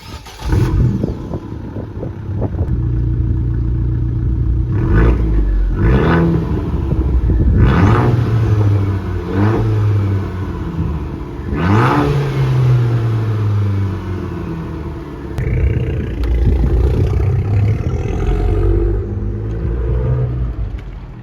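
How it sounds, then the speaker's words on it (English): An Abarth with a Record Monza exhaust drives and accelerates hard, its engine rumbling loudly and rising through several revving pulls separated by gear changes, close and continuous throughout. "Let's go and drive the Abarth anyway."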